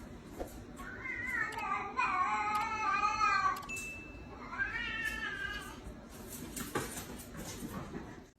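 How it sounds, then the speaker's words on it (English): A cat meows loudly in long, drawn-out, wailing yowls, two extended bursts close to the mic with a hairdryer whirring steadily underneath. "This cat is currently having a very loud argument with the hairdryer."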